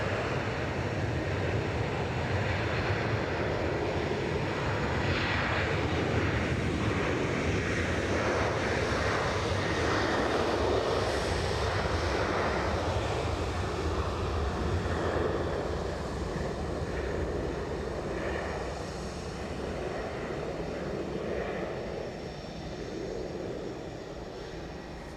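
Ryanair airliner taking off from Edinburgh Airport, bound for Prague: a broad, steady jet roar at moderate distance that holds strong for the whole stretch and eases slightly toward the end, with no one talking.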